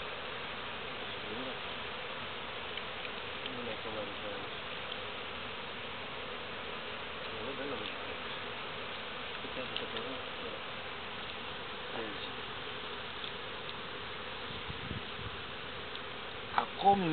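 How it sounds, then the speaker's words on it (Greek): Swarm of honeybees from a pine-tree swarm buzzing steadily around an opened hive, a continuous dense hum throughout, with faint voices and a few brief louder bumps near the end. "Ακόμη μέσα σε κρύπτες, κοίτα Γιάννη, από εδώ μέσα ακόμη βγαίνουν μέλισσες"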